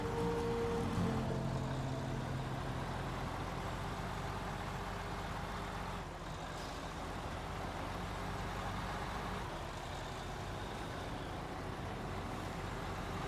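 A DLC truck in the video game SnowRunner, played in Brutal Mode on the Maine map near Evans Garage, runs with a steady low diesel engine rumble and idle throughout, with a brief hiss near the start.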